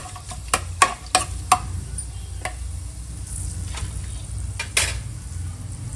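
Cinnamon, clove, fennel and cardamom crackle and sizzle in a hot pot for a basmati biryani, with a few sharp metallic clinks and taps up front over a steady low frying hiss.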